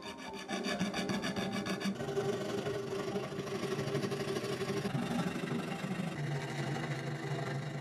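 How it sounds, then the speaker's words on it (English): A small fret saw cuts through a Lego block clamped in a vise, tracing a knife outline; steady rasping strokes run continuously and loudly, close up with no talk. "we fixed it in the vise and saw our knife along the contours with a small fret saw"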